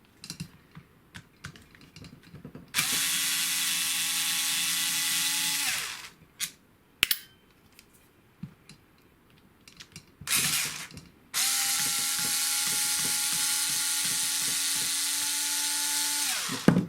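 An electric drill with a worn bit backs screws out of a Tamiya TL01 RA RC rally car. There are two long, loud whirring runs separated by quiet clicks and handling noises.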